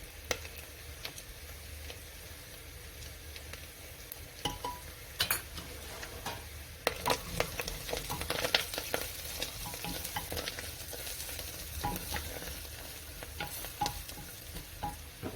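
Turmeric, chili powder, cumin, garam masala and coriander fry in a pan for lamb curry, giving a low, continuous sizzle broken by repeated scrapes and taps of a stirring spoon, fairly quiet and without speech.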